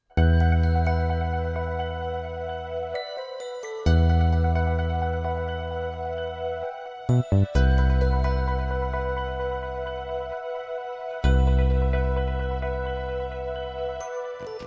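A slow, moody keyboard loop: sustained pad chords with Rhodes electric piano tones, repeating in long phrases with brief gaps, clear and upfront.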